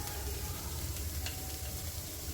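Gram flour (besan) frying in a pan, a steady soft sizzle with light stirring throughout, close and continuous with no talking.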